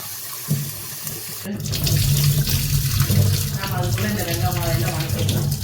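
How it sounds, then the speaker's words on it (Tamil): Running water pours and splashes steadily into a bowl of millet being rinsed after a brief clatter, with a voice talking faintly underneath. "ரெண்டு ட்ரிப்பு தண்ணியில் அலாசிக்கிறேன்"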